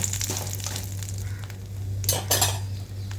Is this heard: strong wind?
no